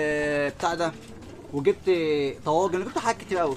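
Young homing pigeons coo in a series of soft, throaty calls close by, mixed in with someone talking over them.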